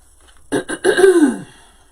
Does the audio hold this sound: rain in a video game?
no